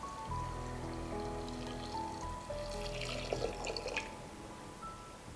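Water splashes and pours into a pot of rice and vegetables for a one-pot dish, a soft continuous trickle with drips, quiet and close, with no voices.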